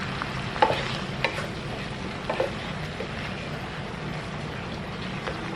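White wine, such as Pinot Grigio or Sauvignon Blanc, sizzles in a hot pan holding bacon bits and browned bits as it is stirred, giving a steady close hiss with a few sharp scraping clicks.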